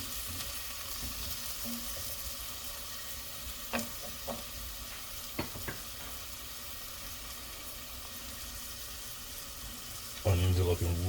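Garlic sizzles steadily in a hot pan for Italian wedding soup, a constant low frying hiss with a few brief utensil clicks, then a louder burst of stirring and clatter near the end.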